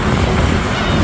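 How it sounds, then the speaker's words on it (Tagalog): Strong wind rushes across a beach at sunset, a dense, unbroken roar buffeting the microphone for a moment, loud and close with no voices. "Malamig at mahangin."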